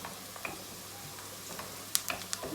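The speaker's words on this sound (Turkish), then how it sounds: "Soğanları iyice kavuruyoruz arkadaşlar. Hiç içinde kalmayacak şekilde." Onions fry in oil with a faint, steady sizzle, and a few soft clicks and scrapes of stirring come near the end. It is quiet and close, with no voices.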